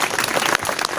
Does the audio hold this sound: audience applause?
yes